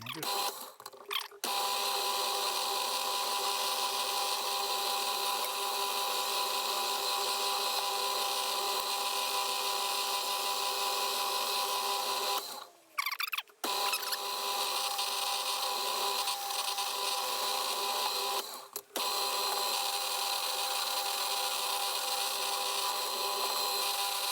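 Metal lathe squaring and turning down scrap stock for a BMW 1200GS rebuild, a steady loud machining drone that runs almost continuously, broken by two brief pauses near the middle and end.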